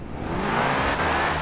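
Car drifting in the racing video game Forza Horizon 4, a steady engine roar with faint tire squeal running continuously and loudly throughout, with no one talking.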